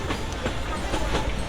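Inside a moving general-class train coach, a loud, steady rolling rumble with rhythmic clickety-clack from the wheels.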